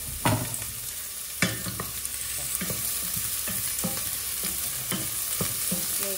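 Pork belly browning in a hot pan, a loud close sizzle broken by repeated scraping and stirring knocks as the pieces are turned.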